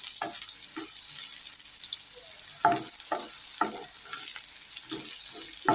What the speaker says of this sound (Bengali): চলো এবার আমি নেড়ে নিই